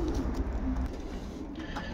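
Brief low cooing from a breeding pigeon in a loft, a couple of soft rounded coos over steady background hum, close by and without speech.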